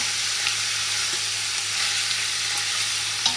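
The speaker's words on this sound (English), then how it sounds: "Give it a good stir." Chili meat, the first two pounds, frying in hot oil in a large pot while being stirred, giving a steady close sizzle with a few faint scraping knocks.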